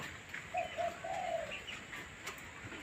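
Soft, low cooing from Mae Mali, a pet dove, comes in a few short rounded notes followed by a longer rolling coo, moderately near over a faint background hiss with a distant bird note.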